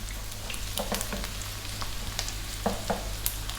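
Garlic frying with pork in a pan gives a steady close sizzle, broken by scattered sharp scrapes and clicks of stirring.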